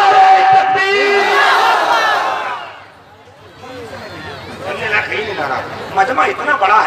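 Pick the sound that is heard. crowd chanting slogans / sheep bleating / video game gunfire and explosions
crowd chanting slogans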